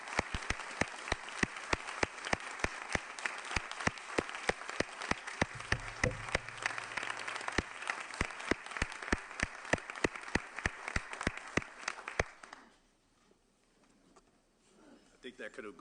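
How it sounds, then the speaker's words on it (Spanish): Audience applauding the county manager at a budget presentation, a long run of sharp, rapid claps from a small group close by that stops abruptly, followed by a quieter stretch where speech starts. "Aplausos, aplausos."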